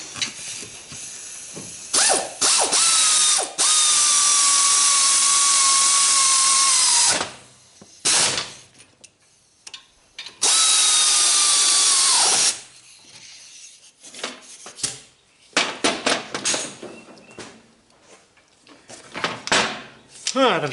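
A power tool whirs in long sustained bursts while bolts are tightened back up on the front brakes of a 2008 Kia Sportage 4x4, followed by shorter clicking and clattering tool sounds in a quiet space.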